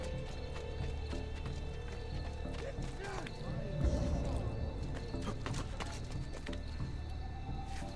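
Hoofbeats of a horse galloping in Assassin's Creed 2, a steady clip-clop running under dense game music and ambience, with a louder thump near the middle and speech over parts of it.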